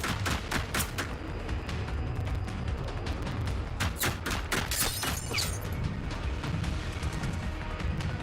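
Bursts of enemy gunfire in Generation Zero, a rapid run of sharp shots with a denser cluster near the middle over a steady ambient background, no talking.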